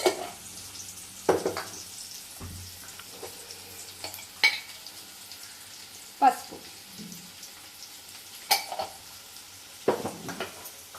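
Cumin and mustard seeds crackling faintly in hot oil for a curry, with a steady low sizzle and scattered sharp pops and clinks of a utensil against the pan, fairly quiet and with no talking.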